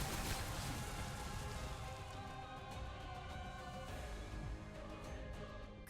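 Rain falls steadily in the video game Limbus Company, a soft, even patter on surfaces that stays faint and constant throughout.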